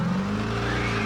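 Demolition derby at a junkyard joust event, with a custom 1952 Chevy and a truck battling: a near, loud, steady engine roar from the cars, with no talk over it in this short moment.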